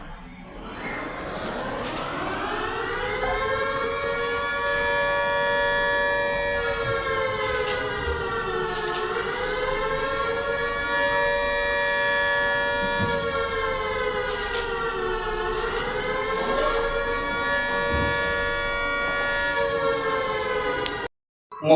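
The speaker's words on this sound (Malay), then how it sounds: "kam don ka air raid warning siren nane ka red signal" Air raid warning siren sounding for a civil defense exercise, one long wailing tone that rises, holds and dips and rises again in slow cycles, loud and steady for about twenty seconds, with no speech.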